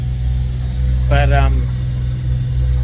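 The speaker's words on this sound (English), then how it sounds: "Listen to that engine." A boat's engine and gearbox run at a steady, loud, low idle close by, with a voice speaking briefly over the hum midway through.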